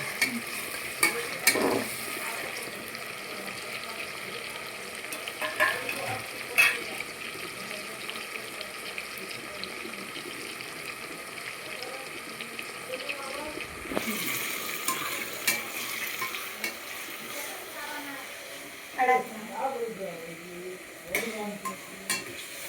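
Tomatoes fry and sizzle in oil, with irregular stirring and scraping in the pan and a faint voice in the background.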